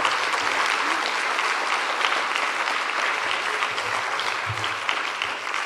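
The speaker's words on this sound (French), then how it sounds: "On peut l'applaudir très fort." An audience at the closing of the 2019 Geneva libraries conference applauds warmly, with dense, even clapping that holds steady for several seconds with no speech over it.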